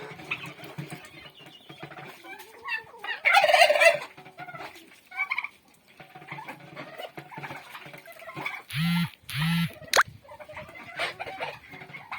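Turkeys gobble in short bursts during morning poultry feeding, amid scratchy rustling and clucking poultry noises, fairly close, with no one talking.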